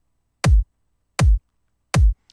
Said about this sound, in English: we just told the kick to play on every beat